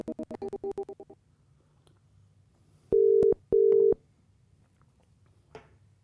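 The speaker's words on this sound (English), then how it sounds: "let's grab Michael on the phone and see if I can help him out." Telephone tones heard while dialing into a live call-in show: two steady, clear tone bursts, each under half a second, separated by a short gap. Brief buzzy sounds come before them over a quiet background.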